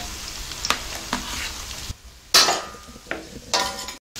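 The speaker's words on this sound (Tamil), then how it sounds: "இது கூடவே கட் பண்ணி வச்சிருக்கிற பீன்ஸ் நல்லா வதங்கட்டும்." Chopped beans sauté in hot oil for vegetable noodles, a steady close sizzle broken by louder bursts as a spoon stirs and scrapes the pan.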